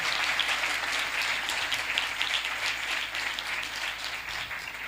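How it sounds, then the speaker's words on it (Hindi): A congregation at a sermon gives a sustained round of loud applause, many hands clapping in a dense even wash that holds steady from start to finish without speech. "खुदा के जलाल के लिए जोरदार ताली"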